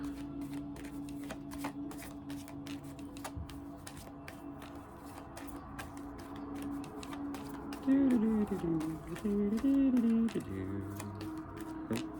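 Tarot cards being shuffled by hand in a run of crisp, rapid riffles and soft slaps, close up, while a voice talks intermittently over them.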